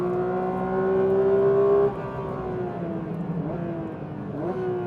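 Porsche 992.2 GT3 engine revving hard on an open road, a loud, close, steady flat-six howl that climbs in pitch, then drops back after an upshift and rises again, with no talking.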